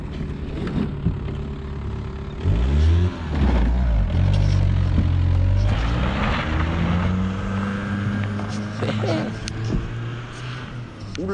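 An Audi sliding on a dirt field as the driver yanks the handbrake, the engine revving and surging in rising and falling sweeps with tyre noise, fairly close, heard alone.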